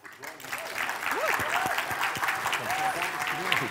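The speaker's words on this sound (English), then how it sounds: "Give a big round of applause for" An audience at the Shannon Region Junior Chef of the Year 2022 event applauds a junior chef from a community college, a steady wash of many hands clapping at moderate distance, with voices audible underneath.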